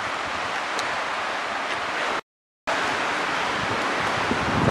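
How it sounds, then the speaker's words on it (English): Steady wind rushes across a hilltop lookout near cliffs, a continuous broadband wash at moderate level broken by a brief dropout of silence midway before resuming. "You can feel like this really nice breeze at its elevation."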